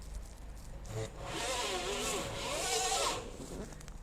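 A 60-volt electric bike motor under throttle, whining with a rising and falling pitch as it speeds up and eases off, fairly faint over a low background hum.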